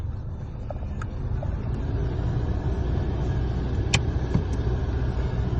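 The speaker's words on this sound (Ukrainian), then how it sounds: "Завелася у нас півоберта, звісно." A 2012 Skoda Octavia engine starting and settling into a steady idle: a loud, continuous low rumble close by, with a few faint clicks on top.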